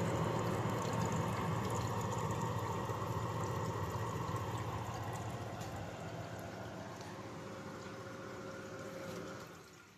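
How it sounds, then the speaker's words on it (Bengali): An air cooler's small water pump runs steadily, lifting water up through the unit and letting it splash and trickle back down, a continuous close watery hiss and gurgle that fades slightly toward the end. "একদম দেখো পারফেক্টলি ভাবে জল উপরে উঠছে এবং নিচে পড়ছে।"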